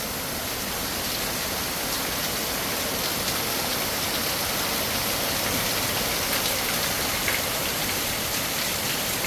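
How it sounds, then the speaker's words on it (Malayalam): Heavy rain with little wind pours steadily, a dense, unbroken hiss of drops striking surfaces with no pauses and no voices. "നല്ല മഴ കേട്ടോ"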